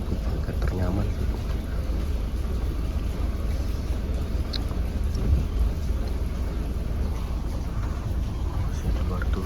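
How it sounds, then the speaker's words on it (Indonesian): Steady rain falls continuously and fairly loudly around a night bus stopover in Indonesia, with a broad wash of sound and low rumbling beneath. "Masih ada waktu hujan, jadi nggak bisa kemana-mana"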